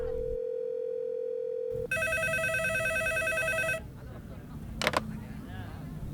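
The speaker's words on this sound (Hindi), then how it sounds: "पब्लिक टेलीफोन बूथ पर इनकमिंग कॉल कैसे आ सकती है?" A public telephone booth rings with an incoming call: a bright, steady electronic ring tone sounds for about two seconds, followed by softer background noise and a brief high beep.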